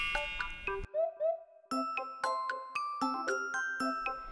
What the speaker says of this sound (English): Door plus bell. Doorbell.